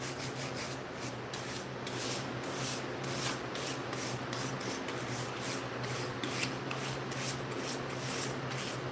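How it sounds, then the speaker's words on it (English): A brush sweeps sawdust out of a wooden piece, a continuous close scratchy rustle with rapid repeated strokes and a faint hum underneath. "Get a little more of that sawdust out of there."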